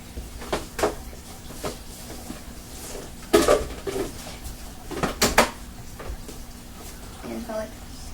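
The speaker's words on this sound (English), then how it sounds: "put the lid on." A lid is set onto a cooking pot while pumpkin pie is being made, with a few close metallic clanks and knocks spaced out between quieter stretches.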